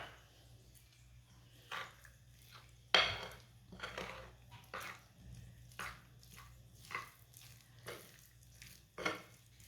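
Spoon stirring a thick pakora-style batter in a bowl, with a steady run of soft scrapes and clinks on the bowl at close range, quiet and with no voices.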